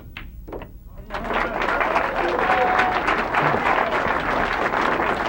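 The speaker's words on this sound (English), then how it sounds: "He was clapping when Jimmy made the 9." Applause after a made 9 ball at a 1993 Sands Regency Open 9-ball match, opening with a few sharp claps before a steady, fairly close round of clapping fills the rest.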